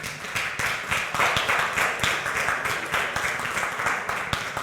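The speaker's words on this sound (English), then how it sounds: "I guess it's worth applause that it's been picked up" Applause from the audience at a county fiscal court meeting, a steady stretch of many hands clapping together, fairly close and sustained throughout with no break.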